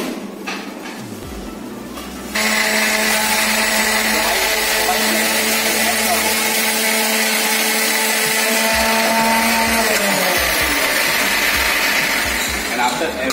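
A blender puréeing soup with olive oil added, a loud steady high-pitched motor whine that starts abruptly after a quieter opening and runs continuously before its pitch shifts near the end.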